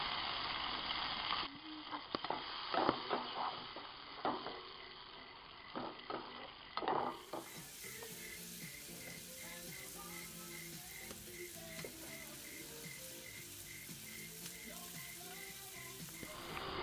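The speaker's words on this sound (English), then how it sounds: "you're going to fry everything until the pepitas and the mushrooms are crispy" Pepitas, mushrooms and olives fry in a hot pan with a crackling sizzle broken by stirring clatters, then a quieter steady hiss as soft music plays underneath.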